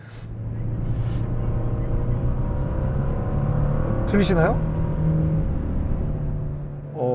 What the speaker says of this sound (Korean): 묵직함이 느껴지는 그런 엔진 사운드여서